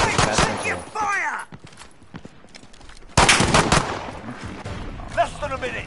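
Rapid automatic gunfire in Call of Duty Modern Warfare Infection mode, loud bursts of shots in two main volleys with brief gaps between them, while voices shout over the shooting.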